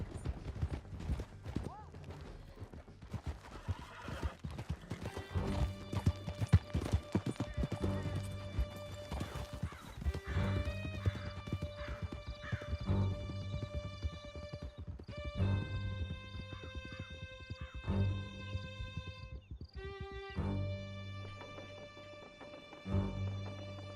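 Horses galloping under riders in Red Dead Redemption 2: rapid continuous hoofbeats with occasional whinnies, layered under a sustained musical score and some talking.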